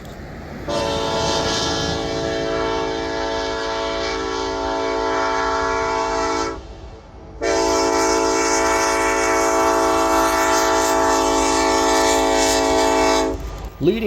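A Norfolk Southern EMD SD70ACE diesel freight locomotive's horn blares in two long, loud blasts, the second longer than the first, over a steady rumble of the passing train.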